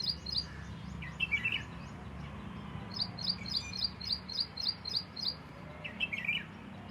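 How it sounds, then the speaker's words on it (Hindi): Small birds chirp nearby in repeated quick bursts of high tweets, one run of evenly spaced calls in the middle, over a soft low background hum. "मतलब चिड़िया भावगंगा सुन रही हैं।"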